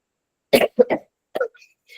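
A woman with a cold gives a few short coughs and throat-clearing bursts in quick succession, close to the listener, with a brief pause between.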